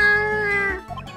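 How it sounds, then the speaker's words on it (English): A short, meow-like cat cry from a dog character in the Ace Attorney video game, a single rising-then-falling wail lasting about a second, clear and close. "Missile, you sound like a cat."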